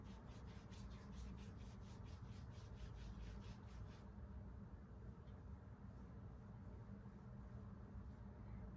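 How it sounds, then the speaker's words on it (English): Palms rub firmly and quickly over bare skin during an Ayurvedic abhyanga self-massage, a steady close-up friction hiss with rhythmic strokes in the first half, then a smoother continuous rubbing. "you're just gonna rub it strong so you bring some heat to this area"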